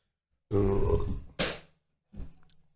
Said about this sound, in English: Another douche burp.